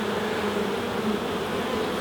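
Honey bees buzz steadily and densely around an open hive during a beekeeping inspection in the UK, a continuous close swarm drone with no talk over it.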